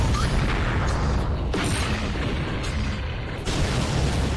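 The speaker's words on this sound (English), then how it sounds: "it like summons a thing that makes more explosions" Dense, continuous explosions and blasts from the video game Doom roar loudly and without pause, layered rumbling booms with brief dips, no voices over them.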